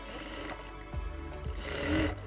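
An overlock sewing machine stitches a pocket in short, quiet bursts of mechanical whirring, each lasting under a second.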